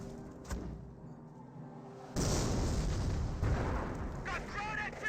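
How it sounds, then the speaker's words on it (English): A mortar emplacement explosion in the video game Company of Heroes bursts in after a quieter lull, followed by a loud, sustained rumble of booms and battle noise; a voice briefly sounds over the din near the end. "Volkswagen are seeing a deadly hit there by the mortar emplacement"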